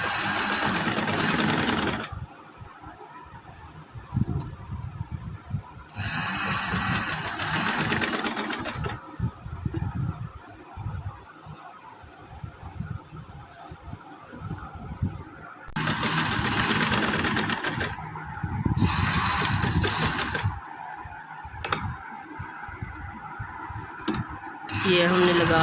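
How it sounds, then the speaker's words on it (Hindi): A sewing machine stitches a front neck design along paper strip guides, running in several loud, close bursts separated by quieter pauses, with some talk during the gaps. "सिलाई लगानी है।"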